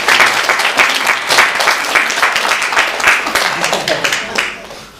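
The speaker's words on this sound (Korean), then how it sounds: "그냥 박수로 축하하겠습니다." Church congregation at a Sunday service clapping to celebrate a young member's birthday: close, loud, rhythmic group applause with distinct claps, tapering off at the end.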